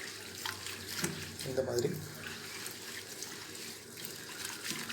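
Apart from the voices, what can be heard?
rinsing curry leaves and gooseberries in turmeric salt water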